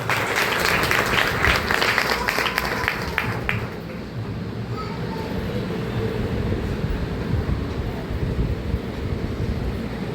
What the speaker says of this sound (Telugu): గట్టిగా చప్పట్లు కొడుతూ